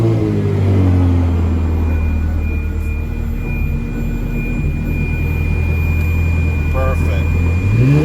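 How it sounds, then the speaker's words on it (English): A Ferrari 360 engine runs at close range with a loud steady drone, its pitch sliding down early on and rising again near the end as it is revved, with no talking. "Now it's time to start the car."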